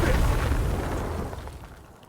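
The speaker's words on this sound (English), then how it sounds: "So let's grenade that hole so nothing else comes out of there." A grenade detonates in the tactical video game Gears Tactics, giving a loud, broadband boom that rolls off and fades over about two seconds, with no talking over it.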